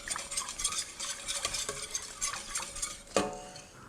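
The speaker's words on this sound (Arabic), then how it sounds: "نحركهم هيك" Swedish meatballs being stirred in sauce in a pan, a close, quiet series of scraping and clinking spoon strokes against the pan with a soft sizzle underneath, ending in a sharper metallic knock.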